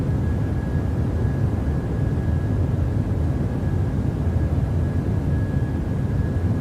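A BahamasAir airliner climbs out over the Atlantic Ocean in Microsoft Flight Simulator, its engines a steady, dense roar with a faint constant whine, unbroken and without talk.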